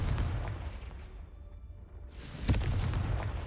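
A Confringo blasting spell in the Hogwarts Legacy game, a sharp, loud explosive crack near the end of the clip after a quieter low rumble, with no voices.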